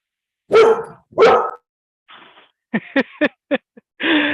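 A puppy barks twice, pauses, then lets out a quick run of short yips and a longer bark, close and fairly loud.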